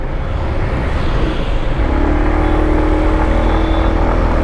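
A 2022 Aprilia SR 160 BS6 scooter is self-started, and its engine settles into a loud, close, steady idle with a humming exhaust note. No talking is heard.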